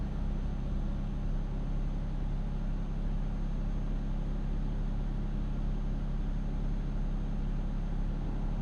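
Truck engine in Euro Truck Simulator 2 labouring steadily uphill, a continuous low drone that stays constant and fairly loud with no talk over it.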